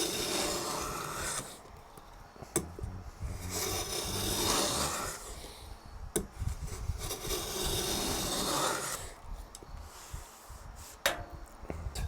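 No. 4 hand plane making light passes down guitar body wood, each stroke a rasping shave lasting a couple of seconds, repeated about four times at close range with short pauses between.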